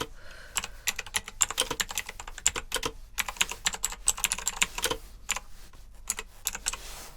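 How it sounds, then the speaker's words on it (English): Quick, light keystrokes on a computer keyboard tap out notes in a soft, close run of uneven clicks with brief pauses, no voices. "So let me just briefly type some notes on this one."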